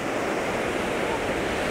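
Ocean waves wash in a steady, full roar of surf, continuous and close, with no voices.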